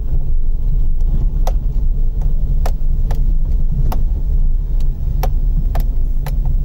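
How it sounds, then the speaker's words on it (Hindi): Vehicles approaching on a road through dense forest in Rajaji National Park, heard as a steady loud engine rumble with wind buffeting the microphone and brief sharp clicks scattered throughout, with no talk. "कुछ गाड़ियां आ रही है सामने से।"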